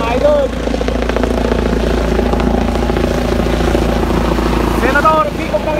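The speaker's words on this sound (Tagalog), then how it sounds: "Ayan na po kami na helicopter." A helicopter lands in a field in Rizal, Nueva Ecija, its loud, steady rotor and engine roar filling the scene while a crowd cheers and someone talks excitedly over it.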